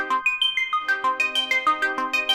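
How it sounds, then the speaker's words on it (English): A Korg Prologue synthesizer plays bright bell tones shaped by a narrow pulse width, a quick melodic run of a dozen or so struck notes with sharp attacks and ringing decays, clean and alone. "we can really shape the tone of the bell"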